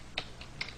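A few quick keystrokes on a computer keyboard, two sharp clicks with a softer one between, faint and close under a low hum.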